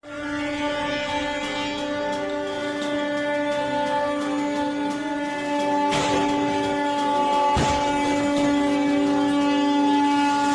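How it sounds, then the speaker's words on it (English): The Gonda express train at a busy railway crossing, its horn blaring in a long sustained blast, with two sharp broadband crashes against a rice-loaded truck breaking through near the end as the rumble swells louder. "The Gonda Asinal Express crashed into a rice-loaded truck at a busy railway crossing"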